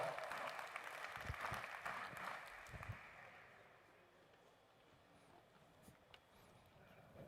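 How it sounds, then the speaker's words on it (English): A conference audience claps to welcome a guest to the stage, moderately at first and then fading to a few faint scattered claps in a quiet room. "Please join me in welcoming Stella with a round of applause."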